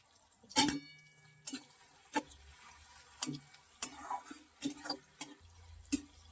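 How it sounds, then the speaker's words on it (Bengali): Tomatoes are stirred in a pan with salt for a paneer bharta, heard as sparse, distinct spoon scrapes and taps over a faint low sizzle, with quiet gaps between strokes and no talk. "টমেটোটা যতক্ষণ না নরম হচ্ছে ততক্ষণ একটু নাড়তে হবে"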